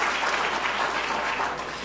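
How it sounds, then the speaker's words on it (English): A conference audience at a community college excellence prize event applauds in a steady wash of clapping, even and moderately loud, tapering slightly at the end. "You can clap for her"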